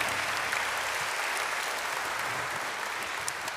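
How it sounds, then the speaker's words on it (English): A church celebration crowd applauds steadily, a dense wash of clapping that holds at an even level for a few seconds, with no voices above it. "Big round of applause for them."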